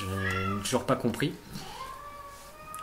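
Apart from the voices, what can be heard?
cat meowing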